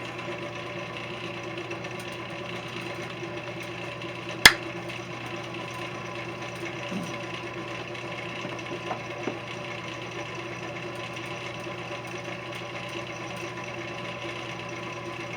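A wood lathe spins a wooden bowl with a steady, even mechanical whir and faint hum, one sharp click near the middle and a few soft knocks later.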